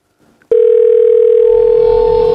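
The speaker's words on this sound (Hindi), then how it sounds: "थैंक गॉड रिंग हो रहा है।" A telephone line tone sounds steady and loud after a brief faint click, holding one unbroken pitch through the rest of the clip.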